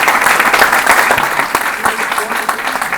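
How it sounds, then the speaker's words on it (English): Loud, dense applause from an awards reception crowd, close and continuous, with scattered voices mixed into the clapping. "we really, really need to get a round of applause to Ed Gaskin"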